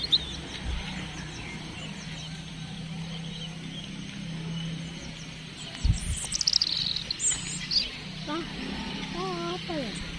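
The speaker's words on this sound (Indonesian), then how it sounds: "Loh, burungnya banyak, cak. Burungnya pada mencok." Many small birds perched in trees along a village road chirp and tweet in scattered bursts, fairly distant, over steady outdoor traffic hum while someone talks throughout.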